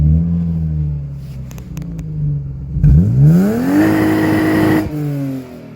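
A BMW E36 engine idles with a low steady rumble, then is revved hard, the pitch rising quickly and holding high before dropping back toward idle, loud and close with no talk.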